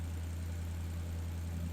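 Maserati GranTurismo under rebuild idling after a coolant change, a steady, unbroken low engine rumble with a deep droning hum, close and even, no voices over it.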